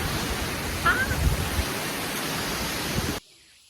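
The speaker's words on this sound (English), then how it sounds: "Waterfall. So much fun." Waterfall in Costa Rica, a broad steady rushing roar of falling water, loud and continuous with brief bumps and a faint voice briefly over it, cutting off abruptly near the end.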